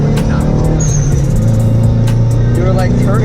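An all-wheel-drive 2005 Subaru WRX driven hard, its engine giving a loud steady drone with road rumble throughout, heard from inside the car.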